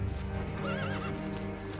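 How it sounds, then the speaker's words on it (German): Horses approaching a tobacco barn at night in 1865 as Union cavalry close in, with a clear wavering neigh rising over a steady low rumble of clip-clopping hooves, loud and fairly near. "Sie hörten Pferde kommen."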